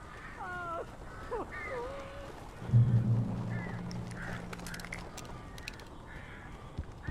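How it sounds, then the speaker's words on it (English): Crows caw in the video game Alan Wake Remastered, a few harsh calls heard close over an ambient background, along with a deeper, longer honking sound and some talk. "These birds are weird."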